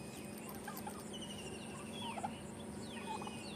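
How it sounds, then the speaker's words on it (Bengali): Turkeys gobble repeatedly in a busy poultry yard, with several bursts of high, rattling calls over a steady background of other fowl clucking and chatter, moderately near and without talk. "টার্কি মুরগি দেখতে আসলাম।"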